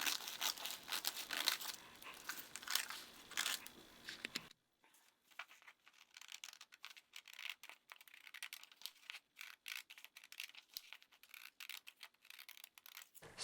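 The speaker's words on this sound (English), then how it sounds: "all you have to do is cut it out with a pair of scissors." Scissors cutting a paper pattern, crisp snipping and crinkling paper close up, busy for several seconds, then sparser, quieter snips after a short pause.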